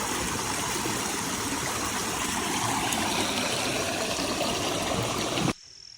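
Creek water flows and trickles steadily in a close, continuous wash across the field, then cuts off abruptly near the end, leaving quiet.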